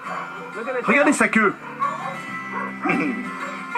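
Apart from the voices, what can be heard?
dog whimpering and barking in a swimming pool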